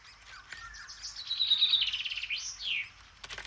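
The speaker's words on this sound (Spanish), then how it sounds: "Vemos al macho del picapinos con una enorme larva de insecto xilófago alimentando a uno de los pequeños en el interior del nido" Great spotted woodpecker at its nest as the male feeds a chick a large wood-boring insect larva, giving a burst of high, sweeping chirps and tweets rising and falling over about two seconds, then a short scratchy rustle.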